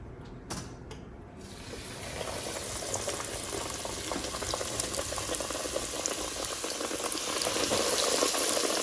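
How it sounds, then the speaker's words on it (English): Loud, steady sizzling and bubbling of breaded pork cutlets (tonkatsu) frying in hot oil, a dense crackling hiss that builds and holds throughout. "so let's start frying"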